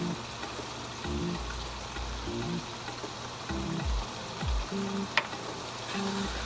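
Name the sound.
stirring peppers and spices in a cooking pot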